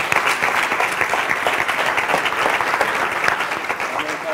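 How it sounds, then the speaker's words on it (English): An audience applauds at an academic enrichment program event, dense sustained clapping from a full room that stays steady and loud throughout, with no speech over it. "I'd like to also request a round of applause for the enthusiastic team of the Enrichment Program"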